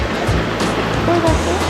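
Broadband rushing of the Ovens River flowing beneath a footbridge in Bright, Victoria, a steady wash of moving water heard continuously from nearby, with a little low background noise mixed in.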